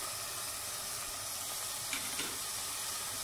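Cumin seeds tipped into beef mince frying in a pan, giving a steady, close sizzle and hiss with a couple of brief crackling bursts near the end.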